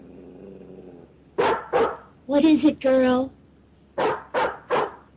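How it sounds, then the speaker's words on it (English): A dog barks in short loud bursts, three then a louder growling volley, then three more sharp barks, with a voice speaking briefly near the start. "It was then that Lassie woke up and started barking."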